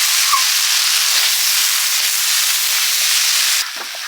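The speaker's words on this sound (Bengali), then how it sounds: "পেঁয়াজ আলু সব ভাজা ভাজা হয়ে গেছে" Steady, loud sizzling hiss of onions and potatoes frying in a hot pan, continuous throughout and dropping slightly at the very end.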